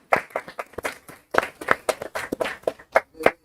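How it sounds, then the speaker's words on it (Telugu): A small group claps in short, uneven bursts at a Christmas Eve cake cutting, each burst of sharp hand slaps separated by brief gaps, with voices mixed in. "చప్పట్లు చప్పట్లు"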